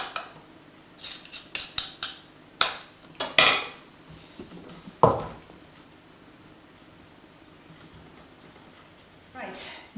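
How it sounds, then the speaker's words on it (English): A knife scrapes and taps against a pie dish rim while trimming excess pastry for a peach pie, giving a series of sharp clinks and scrapes separated by quiet gaps. "with a knife just take the excess from around the rim of the dish"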